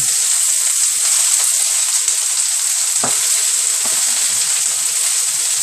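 Pulled pork egg roll filling with ginger stir-fries in a hot pan, giving a steady, bright sizzle throughout, with a sharp spatula scrape near the middle and a few soft knocks.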